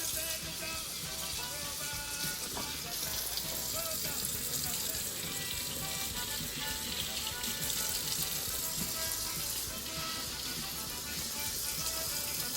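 Running tap water pours steadily over vegetables being washed for pickling, including small and large cucumbers, a continuous splashing hiss in a kitchen with faint speech in the background.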